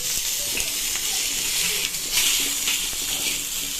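Steady, loud sizzling of onions frying in a pan for black masala egg curry, a continuous bright hiss with faint stirring scrapes, close and without talk.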